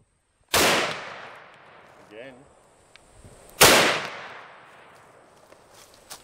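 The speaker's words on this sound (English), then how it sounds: "Both shots are on target." Two sharp, loud rifle shots ring out about three seconds apart during an outdoor buffalo hunt, each one followed by a long, rolling echo that fades away; faint rustling sounds fill the quiet between them.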